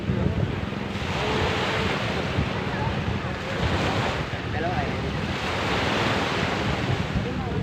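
Strong sea waves churn in a steady, loud roar mixed with heavy wind buffeting close to the microphone, swelling and easing in broad surges throughout.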